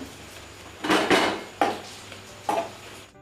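A metal spatula chops kothu parotta on a pan, striking three times in sharp, close metallic clanks, the first a quick double hit, each followed by a brief scraping ring.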